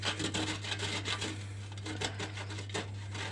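Nuts are grated by hand for homemade hedgehog cookie-candies, producing a quiet, rhythmic rasping scrape in quick repeated strokes, heard alone with no talking.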